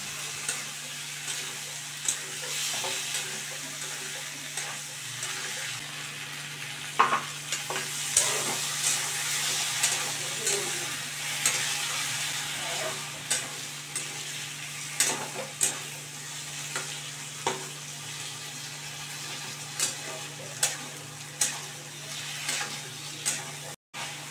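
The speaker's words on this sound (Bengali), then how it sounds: "এই সমস্ত কিছু অ্যাড করে দিয়ে খুব ভালো করে আমি প্রথমে কষিয়ে নিচ্ছি" Potatoes and spices being sautéed in a pan for a vegetarian Bengali soybean and potato curry, a steady close sizzle with repeated scraping and stirring knocks of a spoon throughout.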